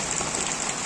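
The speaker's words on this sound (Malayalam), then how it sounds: "അങ്ങനെ കുറേ നാളുകൾക്ക് ശേഷം ഞങ്ങളുടെ പ്രദേശത്ത് മഴ പെയ്തു" Rain falls steadily over a local area near a pond after a long dry spell, a dense, even hiss with no break and no voices.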